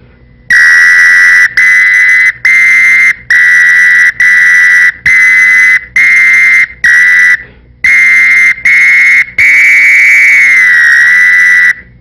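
A piercing samba whistle plays a simple tune in a series of long blown notes with short gaps, ending on a longer wavering tone, loud and alone.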